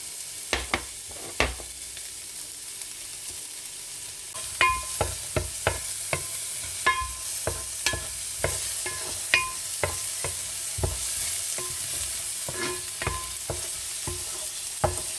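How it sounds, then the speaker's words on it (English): Chopped red onion frying in melted butter for a lamb stew, with a steady sizzle broken by repeated sharp scrapes and clacks of stirring, close and alone with no talk. "Once the butter is melted, we can add our onions and caramelize it and make it brown."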